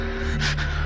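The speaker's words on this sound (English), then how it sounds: "the animalistic panting he does when he's hungry" Dracula's hungry, animalistic panting: a short sharp breathy gasp close up, two quick bursts of breath over a steady low hum, no talk.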